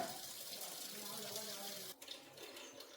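Spinach is rinsed under a running kitchen tap, a steady gush of water splashing into a sink, with a brief dip and sputter partway through.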